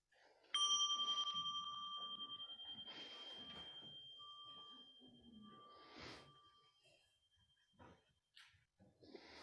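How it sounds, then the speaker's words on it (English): A small meditation bell rings once at a New Year mindfulness gathering, a bright sustained tone that decays over several seconds beneath quiet shuffling, breathing and faint murmured speech in the room. "And with the next bell, please rise."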